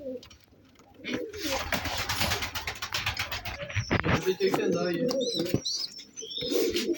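Pigeons or doves coo softly and steadily in a new chicken coop, the close, rolling calls mixed with a few higher chirps and some shuffling throughout.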